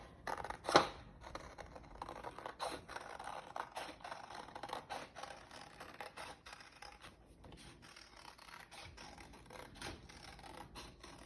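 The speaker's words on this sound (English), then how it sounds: "I want you to take your scissors and cut around it." Scissors cutting around a paper shape, faint close snips and rustling paper with soft scraping, irregular and quiet throughout.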